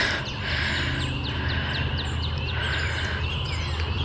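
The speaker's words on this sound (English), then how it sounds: "Listen to all those birds." Birds chirp and sing repeatedly outdoors during a storm, short high calls over a steady low background hum.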